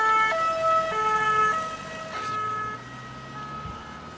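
A two-tone ambulance siren wails loudly and steadily, its pitch alternating, with a low vehicle rumble underneath; no voices.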